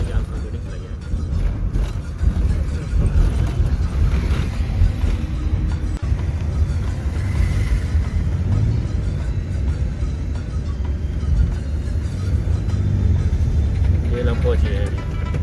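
A car driven on a road trip from Jabr to Jhelum, Pakistan, gives a steady low engine and road rumble that stays loud and continuous throughout, with voices talking over it.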